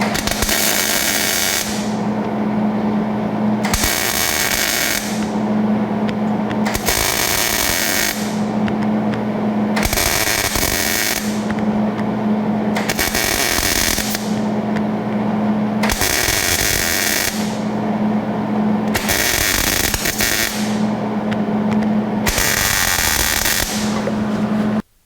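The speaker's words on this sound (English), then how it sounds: "it's time to weld, and this is not going to be an easy weld. We're welding heavy metal to light metal." Welding an exhaust pipe onto a 1984 Jeep CJ7, joining heavy metal to light metal from underneath: eight evenly spaced bursts of loud, crackling arc buzz, each a few seconds long, separated by brief pauses.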